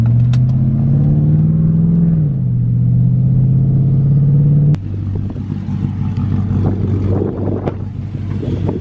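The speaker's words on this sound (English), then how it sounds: "so we're gonna go for a little drive" A cammed Chevrolet Silverado truck drives along, its loud, lumpy engine droning steadily with rising and falling revs before a sudden shift to a rougher, choppier rumble partway through.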